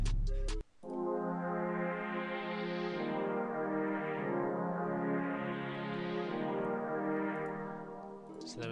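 A sustained synth pad from a futuristic glo beat rings out alone, a rich harmonic chord held for several seconds with slow sweeping filter swells that rise and fall twice before it fades.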